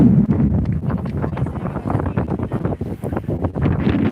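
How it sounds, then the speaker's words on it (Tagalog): Loud wind buffeting the microphone at a seaside waterfront, a constant low roar with gusty rumbling throughout. "Lakas ang hangin."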